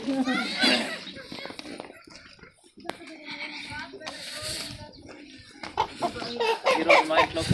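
A live village chicken clucks in bursts while people talk nearby, the bird's calls mixed with voices and handling noise at close range.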